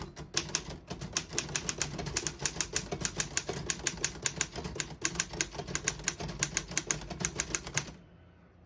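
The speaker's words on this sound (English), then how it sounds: "And I'll type a sentence on this next line." Typing on a 1941 Royal KMM desktop typewriter with Elite typeface: a steady run of crisp, close key strikes with mechanical clatter, ending in a brief pause near the end.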